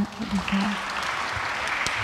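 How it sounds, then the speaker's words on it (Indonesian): An audience claps steadily at a church talk event, a dense, moderately distant patter of hands that lasts throughout. A short vocal sound comes near the start. "Terus tepuk tangan dong buat"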